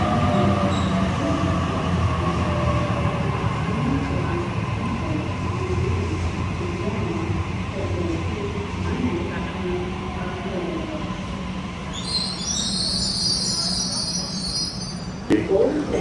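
A train rumbles steadily through a domestic airport railway station in Australia, with a high metallic wheel squeal near the end and faint voices in the background.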